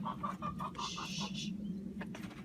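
Backyard hens in and around their coop, a quick run of soft clucks followed by a brief higher squawk and a few scattered clucks, close by over a low steady background hum.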